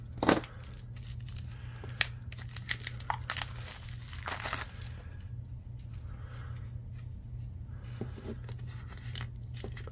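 Crinkly plastic wrapping of 1996 Pinnacle Summit trading cards being torn and opened, with a sharp rip near the start and scattered crackles and rustles over a steady low hum, close up, no talking.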